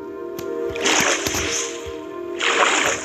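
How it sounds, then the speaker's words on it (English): Water bucket emptied in Minecraft, released in two short splashy bursts of sloshing water over a faint steady background hum, with small clicks between them. "Let me get my water bucket out."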